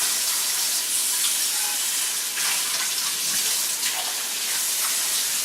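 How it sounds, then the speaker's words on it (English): Apple chunks sear and bubble in a hot skillet, a steady close hiss with faint popping crackle running continuously, with no talk. "you see we got a nice bubbly sear going on here"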